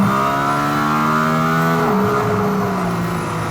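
Mercedes-AMG ONE hypercar on a race track during a warm-up lap, a loud engine drone with steady harmonic tones that shift in pitch partway through as the car changes speed.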